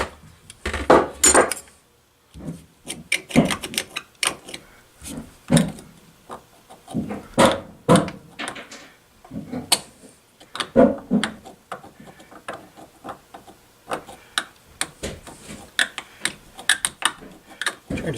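A tool scrapes white powdery corrosion from around a ring on a 1966 Honda Benly engine. Close, uneven metallic scratches, clinks and taps repeat steadily with brief gaps, and no one talks.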